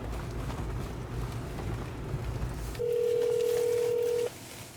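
A steady telephone dial tone sounds for about a second and a half during an outgoing call, clear and even over background noise, then stops.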